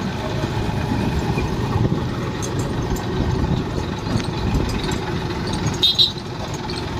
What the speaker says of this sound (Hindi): अशोक ट्रैक्टर चला रहा है